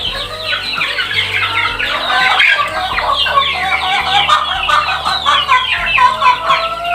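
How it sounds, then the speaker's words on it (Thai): Chickens on a poultry farm with ducklings cluck and squawk in a dense, continuous chorus that is close and lively, with no talk over it. "ไก่"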